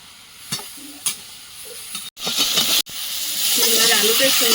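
Cauliflower and prawns fry in a pan for a Bengali curry, giving a steady close sizzle that swells loud and continuous after two brief cut-offs, with a few stirring knocks early on.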